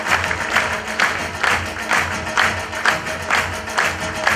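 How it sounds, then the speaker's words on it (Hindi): An audience at a seminar applauds when asked to give a hand, producing a full, steady burst of clapping from many people in a hall, with rhythmic swells that stay loud throughout, with no talk over it. "यही मौका है ताली बजाने का, प्लीज गिव मी हैंड"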